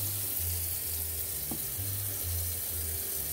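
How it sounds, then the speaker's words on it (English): Tap water running steadily into a sink while a cup is rinsed out, a continuous close hiss with a low intermittent hum underneath and no voices. "let me wash my cup out"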